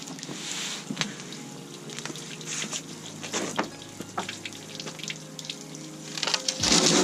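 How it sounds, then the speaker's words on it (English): Water draining from a camper's fresh water tank, a splashing gurgling flow with irregular spatters and drips, close by and fluctuating, surging louder near the end. "Now I'm draining out the tank and I'm going to refill with fresh water."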